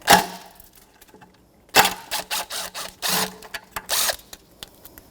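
Ratchet with a 10mm socket removing a bracket from the intake of a 2014-2019 Toyota Corolla 1.8L L4, heard as bursts of rapid clicking in several short runs, close and fairly loud, with no talking.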